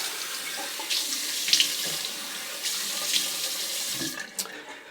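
Water runs from a bathroom tap into a sink while a face is wetted for a wet shave, a close steady rush broken by a few splashes and handfuls, then cutting off near the end.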